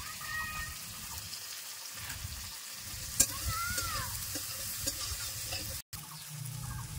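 Coriander powder and other ground spices fry in hot oil while being stirred, giving a close, continuous sizzle with scraping spoon strokes and occasional light clinks, briefly cutting out once.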